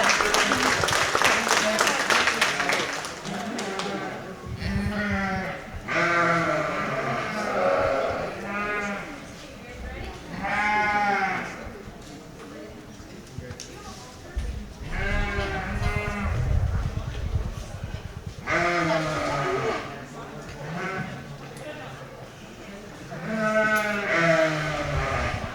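Sheep bleating in a show barn at a junior county fair, repeated loud wavering bleats from several animals nearby, some overlapping, with an announcer's amplified voice heard between calls.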